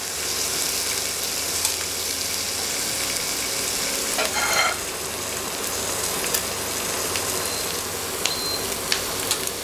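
Eggs frying gently alongside ham in a pan, a steady dense sizzle with fine crackling throughout and a brief swell of bubbling midway, close and continuous with no voices.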